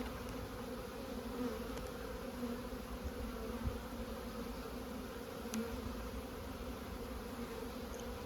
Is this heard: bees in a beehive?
yes